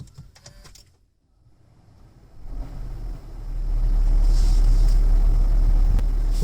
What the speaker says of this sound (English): this car has started in the petrol engine mode, which basically generates power to the electric motor